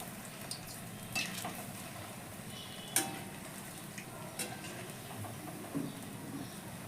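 Kalo jam sweets fry in oil and are gently turned a little at a time. A faint, quiet sizzle carries on steadily, with scattered light ticks and taps from the spoon.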